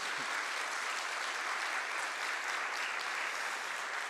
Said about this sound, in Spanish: Un aplauso más para el expositor